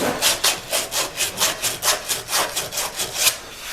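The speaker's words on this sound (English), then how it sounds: "If you soften this edge a little bit, kind of chamfer it a little bit with some emery cloth or whatever you have, a rasp works really well." A rasp or emery cloth chamfers and softens the edge of a wooden piece on a mini router bench: about a dozen steady, rhythmic scraping strokes, close and fairly loud, with no talk.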